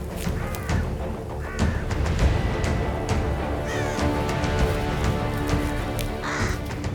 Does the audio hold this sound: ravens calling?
yes